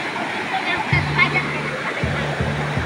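A cold spring waterfall in Camuayan, Balingasag, rushes in a steady broad roar, with someone talking over the flowing water.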